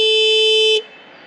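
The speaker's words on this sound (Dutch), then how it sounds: "Oh, ja, hoorde je hem net niet toeteren?" A Zip scooter horn gives one loud, steady honk up close, held for most of a second before it cuts off.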